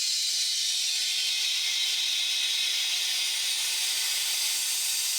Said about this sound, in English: I gotta obviously turn the compressor on.